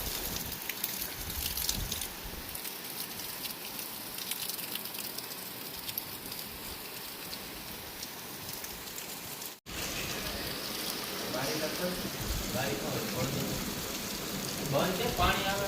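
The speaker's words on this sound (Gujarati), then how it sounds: "આજે તો સવારમાં સારો એવો વરસાદ ચાલુ થઈ ગયો છે" Steady early-morning rain falls continuously, a dense even hiss of drops pattering on surfaces close by, with a brief dropout partway through.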